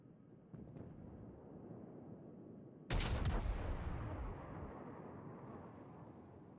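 A naval gun fires in the World of Warships battleship game, a sudden heavy blast over a low rumbling background, followed by a long rolling decay that fades over several seconds.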